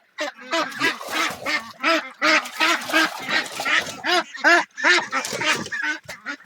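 A duck quacks repeatedly and loudly at close range, a steady run of harsh nasal honks with brief gaps, heard alone without talk.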